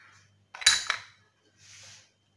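A metal spoon clinking against a bowl while stirring cake batter mixed with cocoa, heard as a couple of close, bright clinks followed by a softer scraping swish, with near silence around them.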